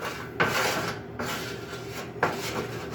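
Scraping across a hot pan while deglazing it with wine for a basic brown beef stock, a steady close rasping rub with two sharper strokes, no voices.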